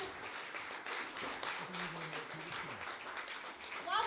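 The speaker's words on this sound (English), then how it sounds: "Whilst we're clapping, give it up one more time" Scattered clapping from an audience runs under background chatter, fairly faint and uneven, with a voice speaking near the end.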